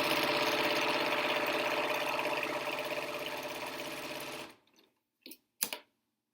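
A sewing machine runs steadily while back-stitching an N95 replacement mask, then stops abruptly and gives a few short clicks and rustles.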